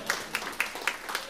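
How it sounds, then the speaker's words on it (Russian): Sparse, quiet clapping follows a drum solo at a live jazz concert, with a few distinct claps spaced regularly rather than a full ovation. "Ваши аплодисменты."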